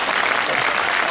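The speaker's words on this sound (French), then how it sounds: "applaudir ça vous réchauffe, donc continue" Sustained applause from an outdoor festival audience, dense and steady clapping filling the whole stretch at close range with faint crowd murmur beneath.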